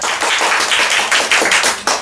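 A church congregation claps to welcome a speaker to the front, with loud, close, crisp hand claps in quick uneven bursts that run for about two seconds and carry no talking.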